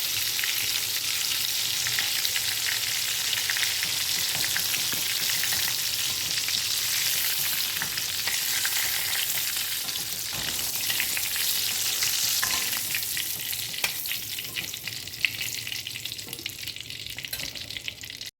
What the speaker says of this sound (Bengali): পটলগুলো দেখো আমার লাল লাল করে ভাজা হয়ে গেছে